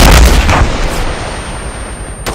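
An anti-tank rocket launcher fires with its back blast: one loud, close boom that rolls off into a long fading rumble, followed by a small pop at the end.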